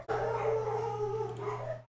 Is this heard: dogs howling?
yes